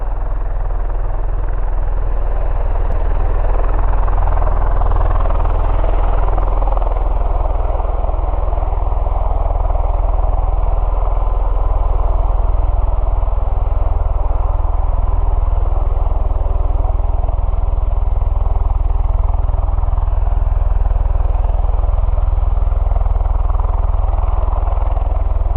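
A V-22 Osprey tiltrotor taking off at an airport gives a loud, close, continuous rotor throb and engine drone that holds steady without pause.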